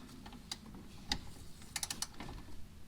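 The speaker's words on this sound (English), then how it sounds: "Now I'm going to go ahead and torque these bottom T-bolts to, and we're torquing the nut on the bottom side" A torque wrench tightening coilover T-bolt nuts on a Corvette, giving a few faint, scattered mechanical clicks and ratchet ticks over a quiet background.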